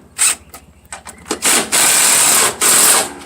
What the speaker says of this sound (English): Just tighten everything down.